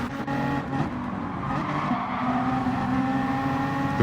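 A Porsche Group 3 race car in Gran Turismo 7 at Blue Moon Bay, with a steady engine drone and tire noise running continuously and loudly throughout, no voices.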